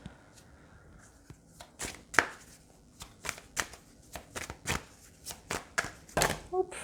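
Tarot cards are shuffled by hand in a run of quick riffling flicks and soft slaps, close and fairly loud, with someone speaking French at times between them.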